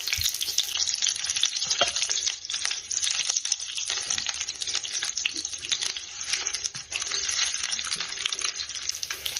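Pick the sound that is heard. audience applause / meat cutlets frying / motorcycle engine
meat cutlets frying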